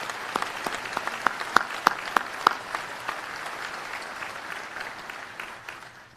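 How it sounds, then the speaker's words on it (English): A commencement crowd applauds the faculty, beginning with a handful of sharp, distinct nearby claps that blend into a softer, thinning round of applause that fades out. "I'd like to give them a round of applause as well, and a thank you to our faculty."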